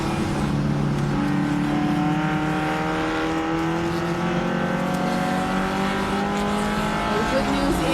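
Tuner production race cars run on track during a race, engines whining and revving in overlapping pitches as several cars pass, with continuous loud motor noise under a commentator's voice.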